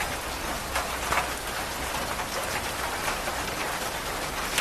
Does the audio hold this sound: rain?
yes